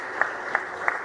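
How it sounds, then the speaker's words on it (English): Applause from an audience at an awards segment of a water and environment week event in Uganda, a steady clapping wash with a few sharper peaks, moderately loud and with no talk over it. "Can we clap for them?"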